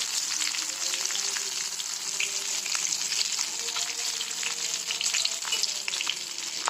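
Spinach and potato batata vadas deep-frying in hot oil in an iron kadai, a steady, dense crackling sizzle that carries evenly throughout with small pops scattered on top.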